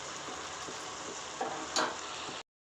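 Potato and cauliflower pieces with chilli powder and salt stirred in a hot pan, a steady close sizzle and fry with a couple of scraping strokes of the spoon before it cuts off.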